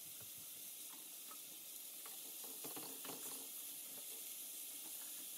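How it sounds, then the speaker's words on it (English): Chicken pieces sear in a hot pan for birria street tacos, giving a quiet, even hiss of frying with faint crackles throughout and no voices. "Just sear it to make it nice and crispy on those edges."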